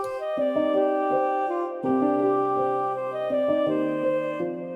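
A bright synth melody with reverb and delay glides over sustained piano chords, the notes shifting every second or so, full and continuous.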